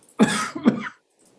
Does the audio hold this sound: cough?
yes